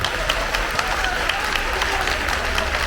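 An audience applauds at a Balıkesir Hodul village association night during a regional culture festival in Zeytinburnu, steady dense clapping from a crowd, fairly close and continuous, with faint voices mixed in.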